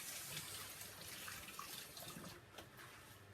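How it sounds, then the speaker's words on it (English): Hands washed under a running tap in a resin-pouring workshop, a steady faint wash of water with light splashing that carries on throughout, with no voices. "Just wash my hands"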